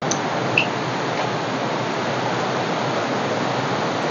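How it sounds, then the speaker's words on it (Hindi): The Gadgada waterfall in Raigada roars as a steady, even wash of falling water, loud and unbroken throughout, with a faint bird chirp near the start. "गदगदा जलप्रपात रो व्यू।"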